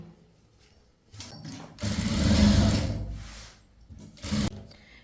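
Sewing machine stitching the lining onto chudithar fabric, a steady mechanical whirr in short runs with pauses, loudest in a sustained middle burst and again near the end, with no talk.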